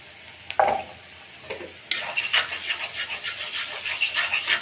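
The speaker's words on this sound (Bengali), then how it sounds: "শুধু তেলের উপরে ডিমটা ভুনা হবে।" Eggs stir-fried in oil with turmeric and chili, no water added, sizzling steadily in the pan after a few brief clinks at the start, close and fairly loud.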